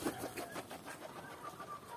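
Muscovy ducks taking off in a village, with a quick series of wing flaps and bird sounds that rise and fall at moderate loudness over two seconds, with no talking.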